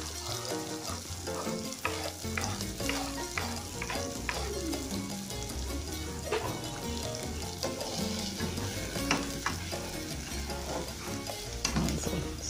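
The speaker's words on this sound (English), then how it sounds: "So stir it." Potatoes, tomato, thyme, garlic, ginger and pimento sizzle in a pot while a spoon stirs and scrapes repeatedly, a close, steady frying hiss with irregular knocks and scrapes throughout.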